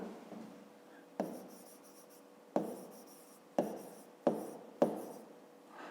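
Someone writes numbers by hand, likely a 5th-grade math exercise, with five distinct tapping strokes of the pen landing on paper at an uneven pace, each a crisp tap fading into a soft scratch, close and quiet.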